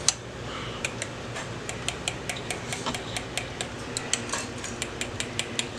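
Fork clinking and scraping against a bowl while mixing a cream pie mixture, a steady run of light metallic ticks close by with no talking.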